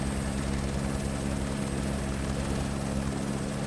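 Airbus A320 engines spooling up in a flight simulator, giving a loud, continuous roar with a steady low hum and a high whine. The sound holds level throughout and no voice is heard.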